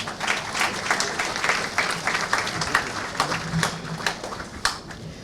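Audience applause for national health teams at a public address, moderate and sustained, with scattered sharp claps rising through a dense patter for the full length, no voices over it.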